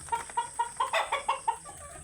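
A laying hen on a farm clucks in a quick, even series of about eight close, clear clucks, heard alone without talk.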